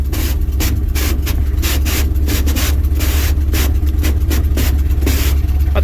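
A 1967 International 4x4 truck engine runs at a high idle with a loud, steady low rumble and a fast, rough pulsing chug, close up and unbroken throughout.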